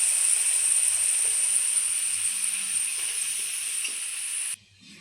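Fried potatoes reddened in oil are lifted from a pan, a steady loud sizzle of hot oil running throughout and cutting off abruptly near the end.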